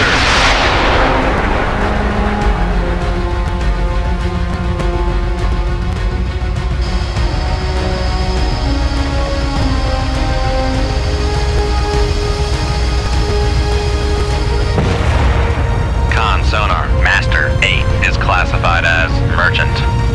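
Submarine torpedoes launching one after another in Cold Waters during an attack on a Russian convoy, a loud continuous rumbling roar layered with tonal machinery hum and sharp bursts near the end, under radio-style crew voices.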